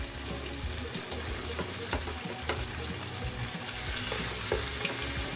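Pork tofu frying in a pan until golden brown, a continuous soft sizzle and crackle with occasional faint stirring clinks, steady and moderately close, no talking.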